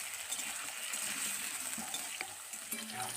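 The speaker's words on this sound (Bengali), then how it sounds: "তেলটাকে গরম করে নিয়ে এবার দিয়ে দিচ্ছি কেটে রাখা আলু।" Cut potatoes salted and frying in hot mustard oil sizzle steadily in a pan, a close, continuous crackle with occasional light scrapes and clinks of a utensil stirring.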